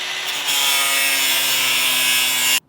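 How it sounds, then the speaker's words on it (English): Power grinder cutting away the edge of roof shingles: a loud, continuous harsh abrasive whine that holds steady for a couple of seconds, then stops abruptly. "we're just gonna grind away a little bit of the roof of the shingles"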